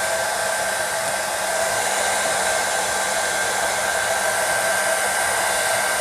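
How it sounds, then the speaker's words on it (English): A hair dryer blows on a kinky straight wig in a steady, loud, unbroken whoosh with a faint high whine, no voices. "I'm gonna blow dry it just so it'll stick"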